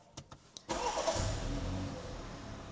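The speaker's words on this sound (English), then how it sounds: "And I'll just switch the car on" A 2021 BMW 318i M Sport engine starts: a few quick cranking ticks, then it catches and settles into a steady, moderately loud idle with no talk.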